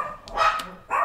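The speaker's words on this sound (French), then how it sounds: "mes chiens qui aboient" Dogs barking close by indoors, two quick loud barks about half a second apart within a very short burst.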